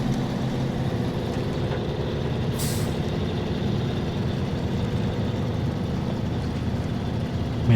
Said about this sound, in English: Man, this truck does sound really good.